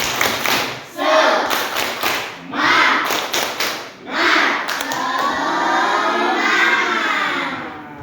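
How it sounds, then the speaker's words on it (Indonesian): A group of students in a classroom does a rhythmic spirit clap, with repeated bursts of patterned claps and brief gaps, then a longer stretch of continuous clapping with some voices mixed in. "Coba tepuk semangat."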